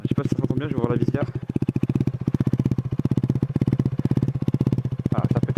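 A KTM Duke 125 motorcycle with a modified exhaust runs nearby at a loud, steady, fast idle, its thumping pulses slightly uneven and crackly, while someone speaks briefly at the start and end.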